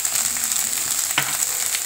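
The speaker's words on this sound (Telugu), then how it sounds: "చూడండి, ముక్కలన్నీ బాగా ఫ్రై అయిపోయినాయి కదా" Okra pieces fry in a pan with a loud, steady, close sizzle and one brief scrape of stirring partway through, with no one talking.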